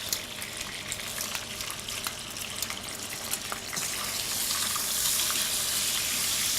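Sauce of cherry tomatoes simmering in a pan, a soft, steady bubbling sizzle with small crackles that grows slightly louder and more hissing partway through, close and without talking.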